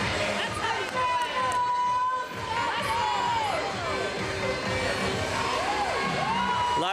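Team moms in the stands at a 14U AA youth ice hockey game cheer, shout and clap loudly right after a goal, a sustained excited crowd roar with high whoops and some voices on top.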